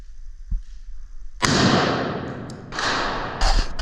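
Rifle shots fired at a target on a shooting range: a soft thump comes first, then a sharp, loud report with a long fading tail, followed by two more quick cracks close by.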